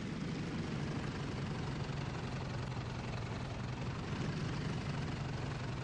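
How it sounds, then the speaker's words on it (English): A throttled-back aircraft engine on a landing approach in the flight combat game IL-2 1946, a steady low droning hum with a faint propeller buzz, even and unbroken throughout. "We're going to throttle back and just glide in."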